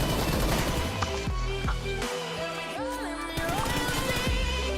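Gunfire in the mobile battle royale game BGMI, a sequence of sharp shots and bursts with clattering impacts over a dense, continuous game soundscape, loud and close throughout.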